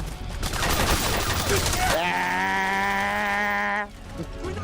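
Dense, loud gunfire from a battle in the video game Metal Gear Solid 4, a rapid stream of shots over about two seconds that gives way to a sustained tonal, buzzing hum before fading.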